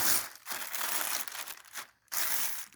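A new plastic bag crinkles and rustles loudly as it is handled and unfolded up close, in continuous crackling bursts with a brief pause near the end, with no talk.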